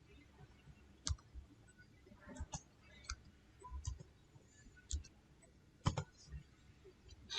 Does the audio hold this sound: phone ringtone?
no